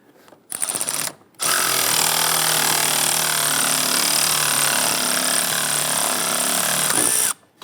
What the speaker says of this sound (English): let's go ahead and tighten everything down